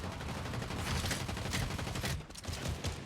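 Fortnite gunfire in a Zero Build match comes as steady, fairly quiet bursts of rapid shots spread across the moment, with a brief break near the end before more firing resumes, with no talk over it.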